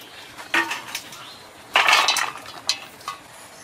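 Cut pointed gourd pieces being rinsed in a bowl of water, with short clattering bursts of vegetables and bowl jostling near 0.5 seconds, a longer, louder splashing scrape around the middle, and two brief knocks toward the end.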